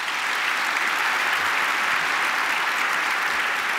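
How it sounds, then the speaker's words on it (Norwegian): Audience applause for Kristin Halvorsen and Nicolai Tangen at the Vestlandskonferansen 2024, a dense, steady wash of many hands clapping at even loudness throughout, with no voices over it. "Gi deg en god applaus!"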